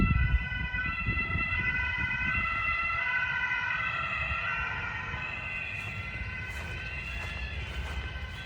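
A police siren wails steadily as a vehicle passes on a German autobahn, its rising and falling tones loud and continuous over low road and engine rumble, without speech.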